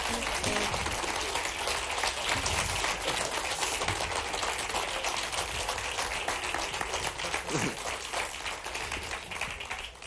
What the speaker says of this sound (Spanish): Un aplauso para Iloni